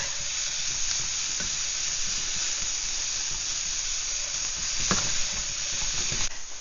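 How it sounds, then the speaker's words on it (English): Carne asada hitting a hot pot for a green chili pork stew, a loud continuous sizzle and hiss with a few stirring scrapes, close up and without talking. "I'm also going to add my carne asada"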